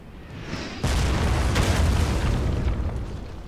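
Cannon fire in Total War: Shogun 2 Fall of the Samurai, one heavy boom followed by a sustained rumbling roar that slowly fades.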